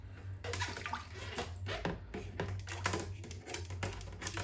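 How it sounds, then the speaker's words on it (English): Steady running water splashes and gurgles for several seconds, with a constant low hum and some clattering bursts as an Oase Biomaster pond prefilter is rinsed under the stream. "Give it a rinse."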